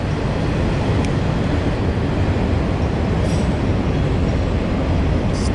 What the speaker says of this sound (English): this looks like about a 2-mile train right here.